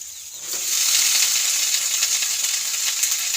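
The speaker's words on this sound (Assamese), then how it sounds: "ইয়াতে দি দিম মই মোৰ লাওৰ আগখিনি।" Bottle gourd shoots dropped into a pan of hot spiced oil, bursting into a loud, dense sizzle after a brief quiet start and holding a steady hiss to the end.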